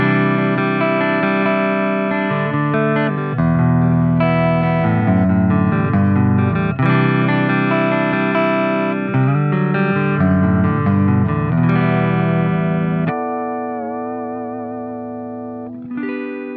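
A distorted electric guitar through a tube amplifier alone, no pedal, plays sustained chords and shifting riffs, loud and saturated, ending on a ringing chord that slowly fades with wavering vibrato.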